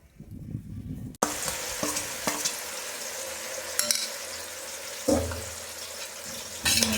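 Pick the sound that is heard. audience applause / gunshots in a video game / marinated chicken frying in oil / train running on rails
marinated chicken frying in oil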